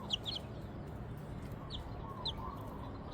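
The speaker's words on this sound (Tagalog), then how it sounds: "Rooster na siya from becoming a chicks." A young rooster raised from a chick clucks softly a few times, short high clucks scattered over steady low background noise, no talk.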